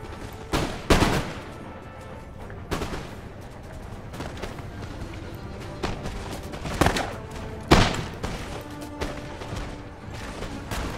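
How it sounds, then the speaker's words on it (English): Musket volleys in the strategy game Empire: Total War crack out in scattered bursts, some sharp and close, others softer and more distant, over a low rumbling battlefield din. "you're gonna start firing at that armed citizenry unit once you've reloaded"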